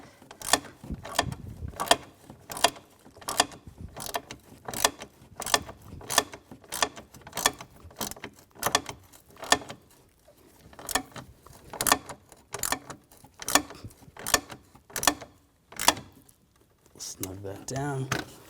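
Screws on a radiator fan assembly for a 2010-2014 Volkswagen GTI 2.0L being driven in with a ratcheting tool, a long run of evenly spaced clicking ratchet strokes up close, with a short clatter at the end.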